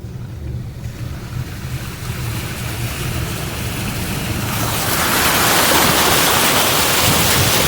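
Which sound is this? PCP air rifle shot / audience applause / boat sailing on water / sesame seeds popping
boat sailing on water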